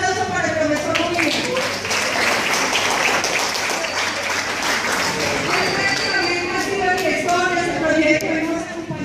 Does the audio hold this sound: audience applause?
yes